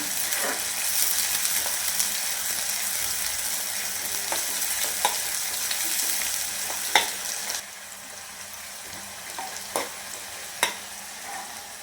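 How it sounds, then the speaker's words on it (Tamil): Chopped onions sauté in an oil-filled pan for mushroom masala, a steady broad sizzle with scattered sharp scrapes and taps of a spoon stirring, the hiss dropping slightly partway through. "வெங்காயத்தை சேர்த்துப்பேன். கொஞ்சம் வதக்கலாம்."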